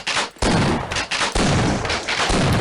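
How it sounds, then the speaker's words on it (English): Rapid, dense video game gunfire fills the stretch, loud and close, firing in sustained bursts with brief gaps between volleys and nobody speaking. "We just need to keep shooting him for a while."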